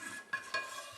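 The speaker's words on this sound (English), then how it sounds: "stir it around" Pasta and peas being stirred in a pot with a little of the cooking water, two quick scraping strokes of a spoon against the pot, soft and close.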